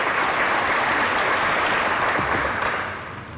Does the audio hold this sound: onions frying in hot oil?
no